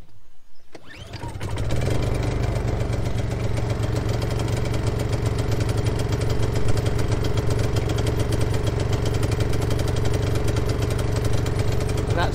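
A Honda EU22i portable generator, just converted from LPG to petrol, starts after a brief quiet moment and then runs steadily, loud and close, with an even buzzing engine drone and no talk.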